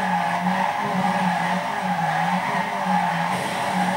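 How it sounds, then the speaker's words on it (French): A car drifting in Need for Speed Most Wanted, a continuous loud tire squeal with a wavering pitch over engine noise, steady throughout. "Faire un drift, vous accélérez et vous tournez en même temps."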